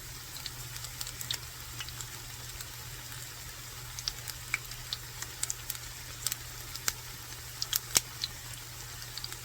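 Low-carb onion fritters frying on an electric stove, a soft steady sizzle with scattered small crackles and ticks, close and fairly quiet.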